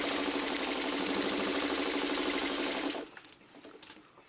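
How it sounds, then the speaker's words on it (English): Sewing machine stay stitching along a fabric edge, a fast steady whirring buzz running for about three seconds close up, then stopping and leaving faint handling noises. "now we're done with the sewing"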